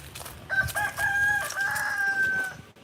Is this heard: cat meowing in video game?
no